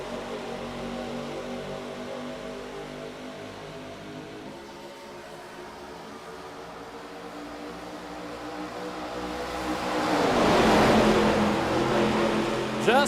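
Race cars in a sim racing game at Atlanta accelerate back to speed after a restart, a steady layered engine drone that swells into a louder, rising roar near the end with no talk.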